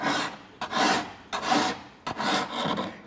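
A steel file rasps across a drawknife blade in four long, even strokes with short pauses between them, close and fairly loud, each pass a gritty scraping hiss.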